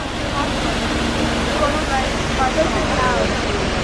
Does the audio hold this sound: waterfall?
yes